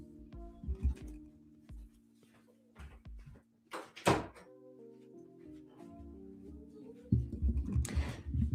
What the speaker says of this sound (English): I'm going to close the door to my office real quick.